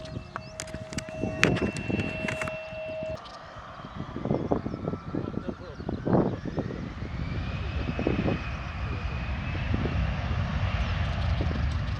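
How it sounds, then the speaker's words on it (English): Airplane engine at Sendai Airport as a plane prepares to take off, a steady roaring drone building under scattered nearby clicks and bumps. "There's one plane over there about to take off somewhere."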